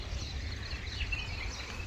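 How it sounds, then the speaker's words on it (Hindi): Several birds chirp faintly at dawn around a quiet resort, thin scattered calls drifting over a steady low ambient hum with no voices nearby. "और इतनी सारी चिड़िया हैं यहाँ पे"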